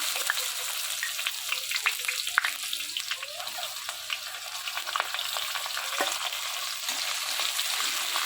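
Onions fry in a pan with a dense, continuous crackling sizzle and scattered pops, steady and close throughout, with faint stirring taps and no speech.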